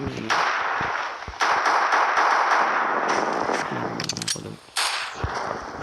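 A video game fires sharp gunshots in bursts and single cracks, irregular and punchy, with brief gaps between volleys.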